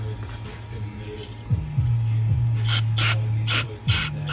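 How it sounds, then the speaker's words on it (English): Compressed air blowing through the ports of a Polaris snowmobile's Mikuni carburetor, heard as several short hissing bursts in the second half over a steady low hum, close by. "we'll go back to the carburetor and blow out those ports"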